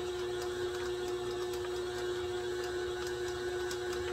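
A stand mixer with a paddle beats cheesecake filling, giving a steady motor whine with a faint, regular ticking of the paddle turning, even and unbroken with no talking.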